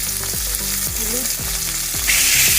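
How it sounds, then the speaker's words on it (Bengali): Potatoes frying in a pan with oil, dried chillies, nigella seeds, salt and turmeric, a steady sizzle broken by rhythmic scraping stirs of a spatula, loud and close. "ভালোভাবে কষিয়ে নেবো।"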